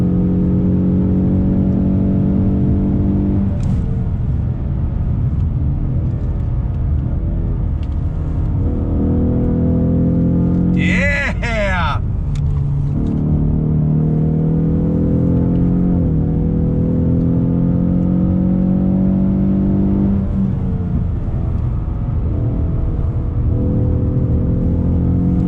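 A 2020 Ford Mustang EcoBoost with the High Performance Pack drones loudly under throttle, its engine pitch climbing and dropping through gear changes, with a brief whooshing burst midway and a steady rising rev near the end.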